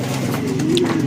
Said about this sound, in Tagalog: Itong kalapati na to, itong blue bar na to.